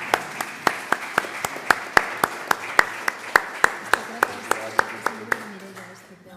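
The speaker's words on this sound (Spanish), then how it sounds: "Un aplaudimiento para Mireia también." Regular, evenly timed claps ring out at a comic book presentation, roughly twenty sharp strikes over six seconds that fade out toward the end, sounding like one or a few people clapping close by rather than a full crowd.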